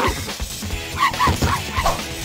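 A chihuahua thrown by a character in The Simpsons Wrestling on PlayStation yaps in a quick run of small, high barks and whimpers, several short yips in a row over game background sound.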